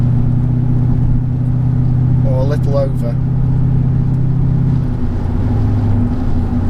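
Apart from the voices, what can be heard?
Mercedes-Benz E55 AMG with Kleemann supercharger driving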